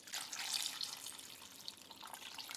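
Water pours over blueberries in a bowl: a faint, continuous splashing hiss that swells briefly and then settles into a quieter steady trickle.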